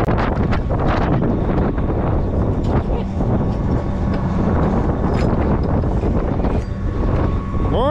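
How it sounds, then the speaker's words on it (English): Strong outdoor wind batters the microphone with a constant loud roar and rumble, broken by bursts of gusting and a few faint knocks. The blowing goes on throughout and no one speaks. "It's a windy one."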